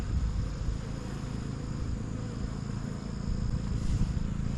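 Honey bees buzz in a steady, dense drone around an open hive during an inspection, loud and close throughout with no pauses.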